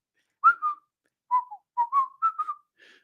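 A person whistles a cheerful tune, the short melodic phrases separated by brief pauses, close and fairly quiet, with no talking.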